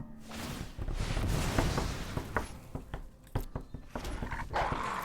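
A dog barks several times in short sharp bursts, moderately close, with a low growling roar underneath and some background game sounds.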